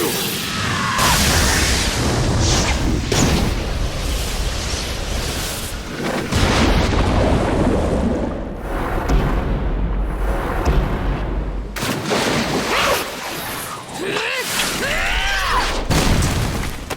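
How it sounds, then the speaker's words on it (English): An anime fireball jutsu fire attack from Naruto, rendered as a long roaring, rumbling blast with whooshing surges and booming bursts, loud and continuous across the scene and tailing off near the end. "Fire style fireball jutsu!"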